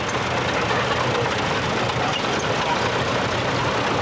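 A six-cylinder vintage tractor engine runs at a steam rally and country fayre, a steady, even rumble with no change in pace, close and continuous throughout, with no voices.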